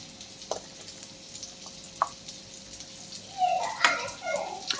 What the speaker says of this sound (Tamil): குழம்பு கொதிக்க ஆரம்பித்து 5 நிமிஷத்துக்கு மேலேயே ஆச்சு.